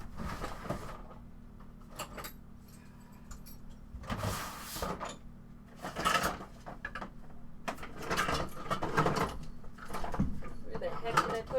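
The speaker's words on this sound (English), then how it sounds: "I just gotta grab it from my drawer of spare parts." Clattering and clunking of metal parts being sorted in a drawer of spare parts while looking for an AK handguard, uneven bursts of knocks and rattles up close, with some speech mixed in.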